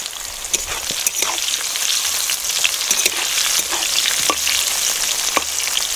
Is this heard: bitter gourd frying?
yes